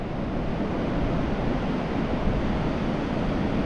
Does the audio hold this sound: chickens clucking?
no